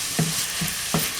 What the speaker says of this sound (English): Continue to stir until it's all mixed in.